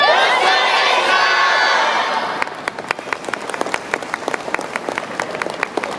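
Crowd applause and cheering at a yosakoi dance performance during the Kobe Yosakoi 2015 eve festival, first a dense roar of clapping and shouting, then thinning into steady rhythmic hand-clapping.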